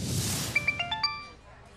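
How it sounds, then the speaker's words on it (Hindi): A phone rings with a short electronic melody of quick ascending tones, heard after a burst of noise and fading out. "ये फोन आ रहा है किसी का"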